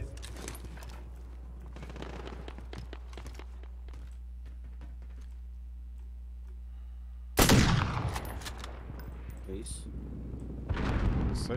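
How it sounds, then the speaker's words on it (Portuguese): Gunfire in a multiplayer video game crackles in sharp, loud bursts at the end, with a second volley just before it stops. Quieter game sounds and voices come before the shots. "Tiros no cara."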